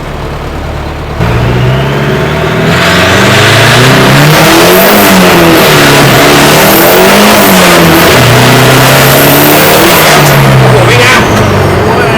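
A remapped 1.9 Pro engine car revs up and down repeatedly while being driven, loud and close, the pitch climbing and falling through several gear pulls, with a voice over it.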